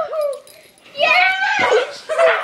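A dog whimpers and yelps while being wrestled by a person, high wavering cries close to the microphone, mixed with excited voices and shrieks.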